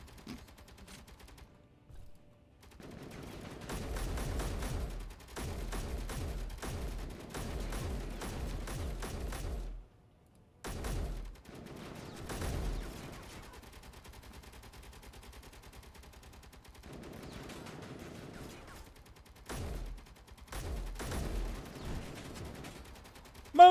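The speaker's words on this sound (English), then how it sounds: "It's a firefight!" Gunfire in a firefight in the game Space Engineers: repeated bursts of rapid automatic shots, some dense and rattling, others shorter, with brief quiet gaps in between, heard at moderate distance and with no talk.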